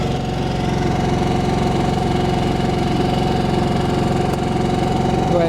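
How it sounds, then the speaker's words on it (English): A Harbor Freight Predator generator engine runs steadily at close range, a loud, even drone with a constant hum and no pauses, heard alone without talk. "We'll get that connected up and get it connected up to the generator."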